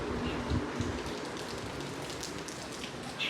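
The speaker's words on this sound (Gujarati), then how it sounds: "બસ વરસાદ ચાલુ છે" Rain falls steadily on a surface, with scattered drips and patters over a constant wash of noise; a faint low hum runs underneath and no one speaks.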